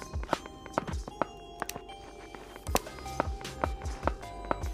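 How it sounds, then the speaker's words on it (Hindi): Footsteps of a player character in the FAUG mobile shooter game, a steady series of thudding steps with sharp clicks, close and fairly quiet over faint background ambience. "ये मेरे फुटस्टेप्स की आवाज़ है।"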